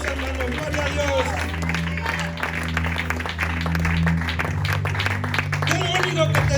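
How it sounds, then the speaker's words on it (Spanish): A church congregation applauds God during an evangelical service: sustained crowd clapping with murmured voices, under steady music and a preacher's voice throughout. "Dale ese fuerte aplauso a Dios, hermano."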